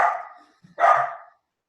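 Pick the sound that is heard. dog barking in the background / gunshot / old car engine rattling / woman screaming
dog barking in the background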